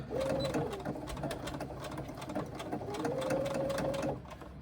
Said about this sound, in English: Now I'm going to back stitch when I start at the top here.